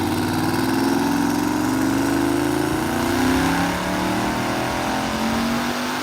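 A twin-turbo Corvette C6 roars on a dyno, its engine held at high revs in a loud, sustained snarl whose pitch climbs and then wavers, close and with no voices.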